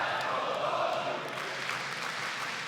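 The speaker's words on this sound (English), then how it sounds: "Crowd's been frothing to cheer on Torzy since before this game even started" Crowd noise from a large arena audience at the StarLadder Budapest CS2 Major in 2025, a dense continuous roar of cheering and applause filling the space, with a commentator talking over it.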